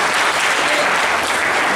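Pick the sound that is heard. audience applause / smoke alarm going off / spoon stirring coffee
audience applause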